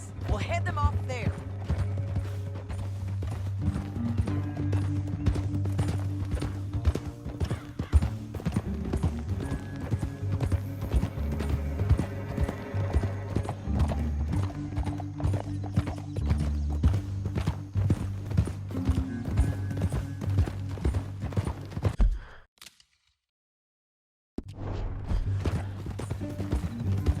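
Horse hooves clip-clop steadily in Red Dead Redemption 2 during a ride through a canyon, a rhythmic near trotting beat over low engine-like game ambience, with a brief silent gap near the end.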